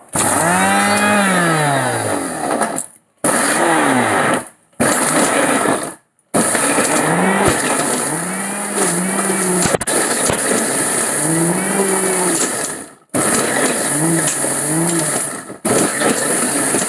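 A kitchen mixer grinder whirs loudly through ginger chutney in repeated bursts, its motor pitch rising and sagging under load, with brief silent pauses between runs.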